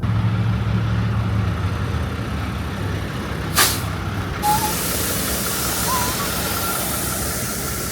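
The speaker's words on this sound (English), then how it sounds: "So here we are backing up our truck." Someone backs up a truck at a hurricane-wrecked three-family house demolition site. A low engine rumble runs beneath a sharp hiss of air brakes releasing midway through, followed by faint squeaks.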